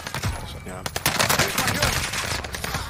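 Dense, continuous gunfire from a Warzone match, overlapping rapid bursts and shots filling the scene with steady intensity under occasional quiet voices.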